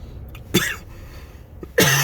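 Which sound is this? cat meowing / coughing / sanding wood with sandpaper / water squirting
coughing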